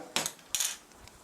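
A spoon adds a teaspoon of salt to a pot of napa cabbage stew, giving two quick metallic taps against the rim about half a second apart, close and clear, followed by a faint rattle and then quiet.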